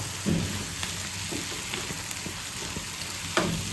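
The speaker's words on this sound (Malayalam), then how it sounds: "നമ്മുടെ പോട്ടി വേവിച്ചതുകൊണ്ട് ഫ്രൈ ആയാൽ മാത്രം മതി" Boiled beef tripe frying in a pan, a steady close sizzle with occasional sharper pops and the scrape of stirring, heard alone without speech.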